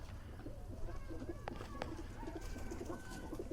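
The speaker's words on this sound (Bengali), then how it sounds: "আমাদের দেশি কবুতর বাচ্চা ফুটিয়েছে" Native pigeons coo softly in a dim loft, repeated low rounded calls over a steady background hum, with a couple of faint sharp clicks.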